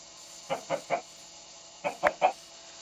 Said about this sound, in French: La poule.